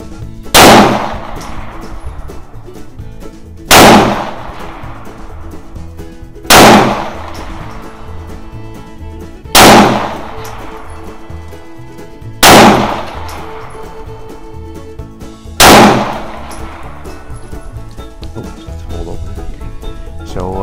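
An Astra 600/43 9mm Luger pistol, a WWII German-contract handgun, fires six loud, sharp shots spaced about three seconds apart, each followed by a short ringing decay outdoors, with no talking.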